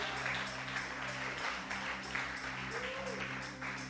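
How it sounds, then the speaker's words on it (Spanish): A church congregation applauding during a worship service, steady clapping from many hands over low sustained organ or keyboard tones, with faint voices mixed in. "Un aplauso fuerte al Dios que vive."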